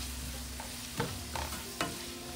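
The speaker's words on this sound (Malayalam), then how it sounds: "2 വെളുത്തുള്ളി, 2 പച്ചമുളക്, 2 കറിവേപ്പില ഇതിലിടുന്നുണ്ട്. ഇത് നന്നായിട്ട് വഴറ്റിയെടുക്കണം." Garlic, green chillies and curry leaves sauté in a pan with a steady soft sizzle, broken by three or four scraping stirs, close and moderately quiet.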